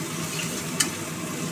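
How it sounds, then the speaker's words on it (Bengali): Goat meat fries in a pan with a steady, even sizzle close by, broken by a single brief scrape or clink of stirring midway. "এবার এটাকে নেড়ে চেড়ে একটু ভাজা ভাজা করবো, বেরেস্তার মতন লাল লাল করে ভাজা হবে।"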